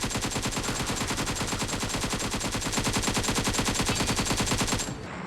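PUBG Mobile gunfire: a long, unbroken burst of rapid automatic shots, loud, close and evenly rhythmic, that cuts off abruptly near the end, leaving only faint background.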